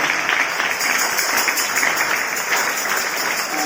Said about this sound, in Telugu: వీరందరికీ గట్టిగా చప్పట్లు కొడుతూ అభినందిస్తున్నాం.